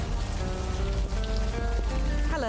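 Rain falls steadily in the adventure game Old Skies, a continuous mid-level patter and hiss layered over a low ambient hum and soft tonal background music, with no talking.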